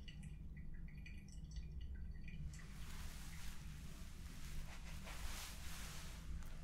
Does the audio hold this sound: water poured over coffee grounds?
yes